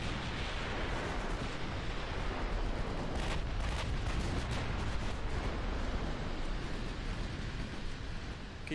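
An enemy battleship's main guns fire in the naval warfare game Ultimate Admiral Dreadnoughts, a heavy, continuous booming rumble that rolls on without a break, thick and dense across the whole stretch.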